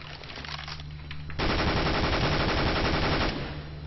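M4 rifle in CS:GO sprayed continuously at the floor, a dense rapid burst of automatic gunfire lasting a couple of seconds, loud and close, after a quieter stretch of ambient game sound.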